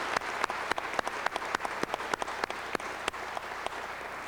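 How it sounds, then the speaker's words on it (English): An audience at a graduation ceremony applauds steadily, a dense patter of many hands with sharper individual claps standing out, moderately distant and continuing for the whole stretch. "Would you give these folks a round of applause,"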